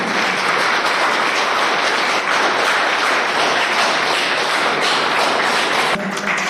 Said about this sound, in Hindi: आप लोग जोरदार तालियों से उनका स्वागत करते रहे